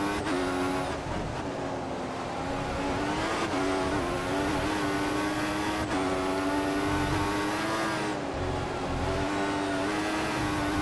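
Formula One car engines in the racing game F1 2014 at the Spain race, loud high-pitched whining that rises and falls through gear changes, with repeated upshifts and a continuous close drone, no talk.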